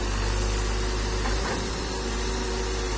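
A Kobelco SK120-3 excavator with a newly rebuilt hydraulic pump runs at light throttle, giving a steady, smooth low engine hum with a mechanical whir, close by and unbroken, with no talk.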